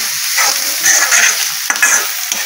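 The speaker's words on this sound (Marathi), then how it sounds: "आता आपण त्याच्यामध्ये टमाटर टाकतो." Tomatoes frying with browned onions in a village kitchen give a loud, close, steady sizzle with bright crackling and a few stirring scrapes.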